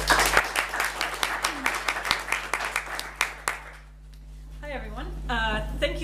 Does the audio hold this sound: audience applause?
yes